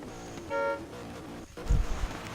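A drift car at a nighttime qualifying event sounds a single short, clear horn honk, followed by a low engine rumble as the car begins to pull away.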